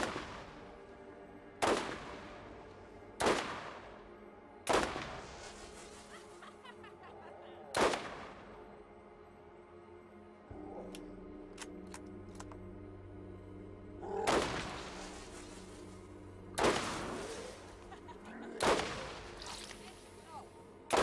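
In the Borderlands video game, repeated sharp gunshots and booming explosions go off at irregular intervals, each with a short decaying tail, over a low game background and occasional voices.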